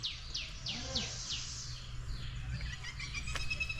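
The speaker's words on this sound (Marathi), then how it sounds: "पक्ष्यांचे आवाज ऐका" Several birds chirp in quick descending sweeps, fairly close, over a low steady hum in a Konkan village, with a few scattered tweets toward the end.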